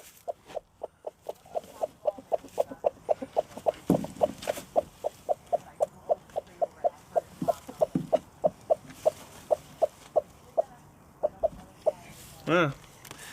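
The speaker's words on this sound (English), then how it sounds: "I have a lot of broody chickens right now, and this one's vicious." A broody hen clucks in a steady, rapid run of sharp, evenly spaced calls, close and fairly loud, with a rougher squawk near the end.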